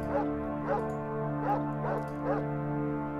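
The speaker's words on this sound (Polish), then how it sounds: "Pies szczeka, tak?" A dog in the video game Fallout 2 gives five evenly spaced, tonal bow-wow barks over a steady humming game soundtrack, clear and moderately loud.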